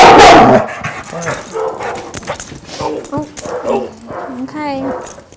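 A dog gives a series of short barks and yips, close and fairly loud, interspersed with whimpering tones after an initial louder burst.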